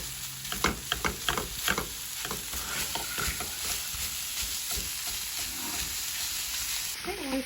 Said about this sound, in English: go ahead and add your meat. And then break it up.